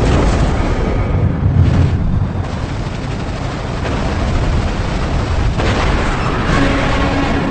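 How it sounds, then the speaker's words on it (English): A continuous loud roar of 30mm aircraft cannon fire and an exploding aircraft fireball rumbles throughout, with bursts and booms layered in a dense, close, sustained din. "A short burst of 30mm cannon fire,"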